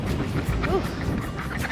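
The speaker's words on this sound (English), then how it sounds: "Please excuse the wind." Steady wind buffets the microphone, a continuous low rumbling roar that fills the clip, with no one speaking.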